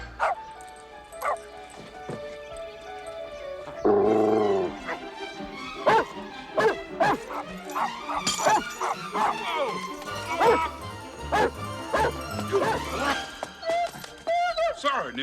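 A small dog yaps and barks repeatedly in a suburban scene, sharp excited bursts in uneven rhythm, close and loud, mixed with background music and a few voices.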